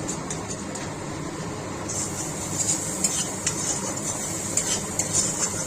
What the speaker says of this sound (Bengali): এভাবে একটু ঘষা ঘষা দিয়ে দিয়ে মশলা ভাজলে মশলাটা ভালো